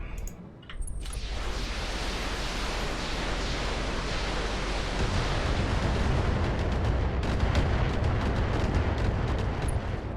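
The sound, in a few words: missile barrage in Battletech video game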